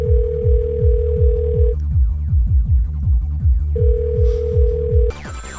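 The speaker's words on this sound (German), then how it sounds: "Telefon klingelt" A telephone rings loudly and close, its electronic tone in two long bursts separated by a gap, over a steady pulsing rhythmic backdrop that runs underneath throughout and cuts off near the end.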